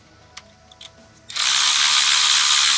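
A ratchet tightens a 10mm bolt on a 2022-2025 Chevrolet Silverado or GMC Sierra 1500, with a few light clicks first and then a loud, steady, rapid whirring ratchet that runs without a break, close up and alone.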